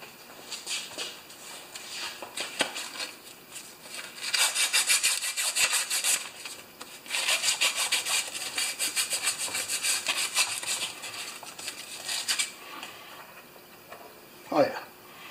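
Sandpaper rubbed by hand on a part of a Craftsman 6.5 HP Tecumseh engine, two long stretches of rapid rhythmic scraping strokes, close and fairly loud, with quieter handling noise between them.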